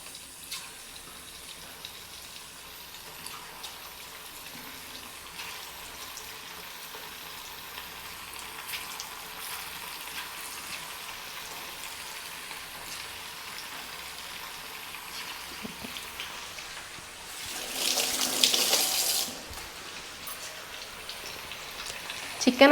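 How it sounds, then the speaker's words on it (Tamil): Chicken 65 pieces go into hot coconut oil. A quiet, faintly crackling background swells into a loud, hissing sizzle for a couple of seconds, then settles down again. "ஆயில் நல்லா ஹீட் ஆகியாச்சு. இப்போ நம்ம சிக்கனை உள்ளே ஆட் பண்ணுறோம்."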